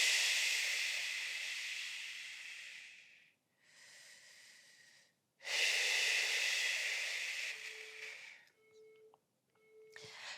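Deep breaths during a pelvic floor relaxation exercise, long airy exhales and inhales in close succession, loud and near, separated by short pauses, followed by softer shorter breaths.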